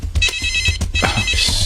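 Mobile phone ringtone repeating in a steady electronic pattern, loud and close, during a tense office scene in a Hindi film, with a brief voice at the start.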